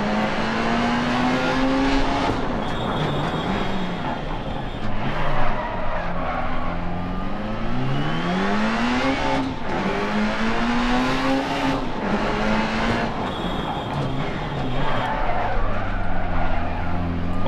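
Rally car skidding and sliding through a corner in the Dirt Rally racing game, with engine revving up and down and gravel tire noise running continuously and loudly for the whole stretch, without any talk.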